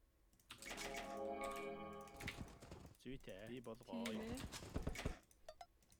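Quick computer keyboard typing during an Age of Empires tournament match, soft clicks scattered beneath someone talking steadily close by.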